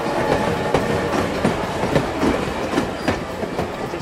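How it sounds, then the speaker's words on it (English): A video game train rolls past in a steady clattering rush with regular clickety-clack wheel beats, loud and close, with no talk over it. "Ooh, choo-choo train."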